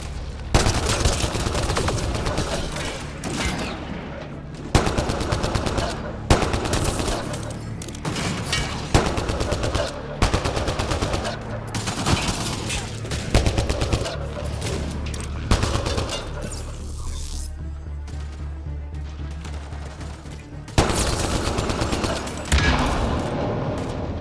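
Gunfire in the sci-fi shooter Mass Effect Andromeda, sustained bursts of rapid shots and volleys that keep breaking out in rounds, with voices calling out between them.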